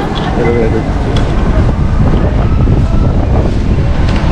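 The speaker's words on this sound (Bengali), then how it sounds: "প্রচণ্ড হাওয়া দিচ্ছে আর প্রচণ্ড ঠান্ডা" Strong, cold wind blows hard and constantly at the Golden Monastery in Coorg, Karnataka, buffeting the microphone with a loud, unbroken roar.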